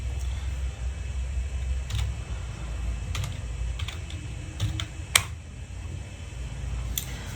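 Fingers type a Google Finance formula into a spreadsheet on a computer keyboard, a steady patter of close key clicks with a few sharper taps over a low background hum.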